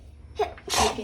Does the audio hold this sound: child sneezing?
yes